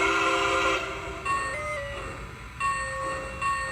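A Lionel LionChief Plus 2-8-4 Berkshire model train sounds its whistle in several short, stepped blasts, the pitch shifting between tones with brief gaps, fairly quiet and close.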